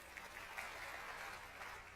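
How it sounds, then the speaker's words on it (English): An audience at a presentation claps briefly, a soft, continuous patter of many hands heard faintly and at a distance, with no voices over it. "clapping"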